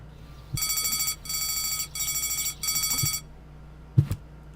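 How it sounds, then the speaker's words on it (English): Alarm bells ring in the Deponia video game, sounding loudly in four steady bursts with short gaps between them, then stopping. A couple of brief clicks follow near the end. "the alarm lights and bells are going at all 3 houses"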